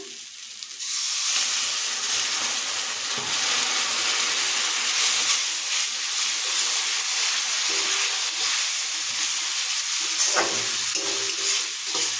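Water hits a hot pan of cooking food and bursts into a loud, steady sizzle with steam hiss that fills the whole stretch after a brief quieter start.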